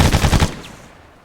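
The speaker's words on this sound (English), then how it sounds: "They're shooting at the dirt behind them." Rapid machine-gun burst in the military shooter ArmA 3, five or six loud, evenly spaced shots over half a second, then a fading echo tail with no talk.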